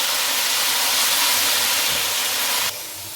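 Beef sautéing with garlic ginger paste in a pot, a loud continuous hiss and sizzle steady throughout, dropping slightly in level near the end.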